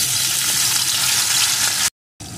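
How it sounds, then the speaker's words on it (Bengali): Marinated katla fish frying in hot white oil, giving a loud, close, continuous sizzle and crackle that stops abruptly with a brief break. "এখন তেলটা গরম হয়ে গেছে, এখন আমি ম্যারিনেট করা মাছগুলোকে দিয়ে সুন্দর করে ভেজে নেব।"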